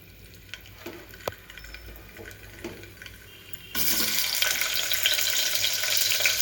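Cumin seeds, mustard seeds and dried red chillies drop into hot oil for a tomato and fenugreek-leaf dal. Quiet kitchen clinks give way to a sudden, loud, continuous sizzle.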